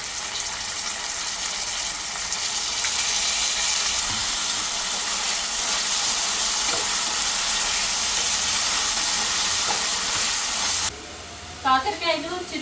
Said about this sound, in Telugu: ఇప్పుడు మనం కట్ చేసి పెట్టుకున్న కాకరకాయ ముక్కలు కూడా వేసేసుకుందాం.